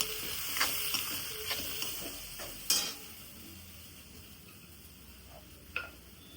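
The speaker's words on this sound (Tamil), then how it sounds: "பாருங்க, குழம்பு நல்லா கொதிக்க ஆரம்பிக்குது." Kaara kulambu curry simmers in a pot, giving off a soft, low bubbling sizzle broken by a few faint clicks and taps.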